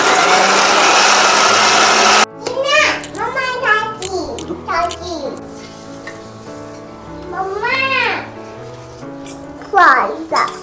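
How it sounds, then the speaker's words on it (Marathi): A kitchen mixer grinder blitzes ginger, garlic and coriander with a loud, steady whir for about two seconds, then cuts off abruptly. Someone talks and a cat meows afterward. "अद्रक लसूण कोथिंबीर घेतली आता मिक्सरला बारीक कर"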